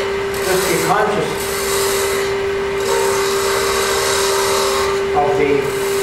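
A gouge rubs and scrapes against a spinning crooked-grain wooden box on a lathe, a continuous close cutting noise with a steady whine underneath and brief swells as the tool bites.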